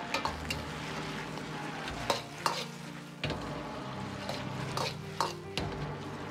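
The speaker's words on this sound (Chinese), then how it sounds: "继续保持大火翻炒均匀" Rapeseed greens with garlic are stir-fried over high heat as the seasoning melts in: a loud, close, continuous sizzle with repeated sharp scrapes and clanks of a spatula against the wok.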